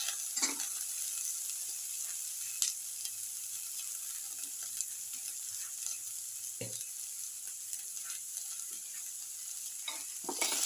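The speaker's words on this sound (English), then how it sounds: "Put in the garlic piece." Garlic pieces sizzling steadily in a pan, a bright continuous hiss with a few soft clicks and stirring knocks, close and even throughout, no voices.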